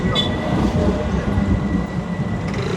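A tram rumbles steadily past on an Istanbul street in late October, a loud continuous rolling drone with faint rail clatter, amid crowd noise.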